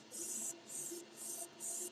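Airbrush spraying a silver base coat onto fishing lures, a soft hiss in four even bursts of about half a second each, separated by short pauses, close and fairly quiet, with no talking.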